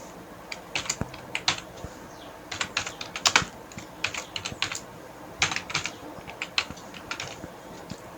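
Typing on a computer keyboard, with irregular bursts of crisp key clicks close by, separated by short pauses, and no talking.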